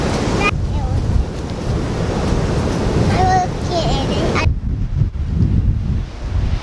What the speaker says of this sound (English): it's an insane amount of windy outside